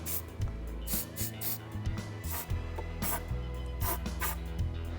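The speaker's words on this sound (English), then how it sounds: "I'll use a bit of silicone spray." Several short bursts of silicone lubricant spray hiss in quick succession, close by, over a low background hum.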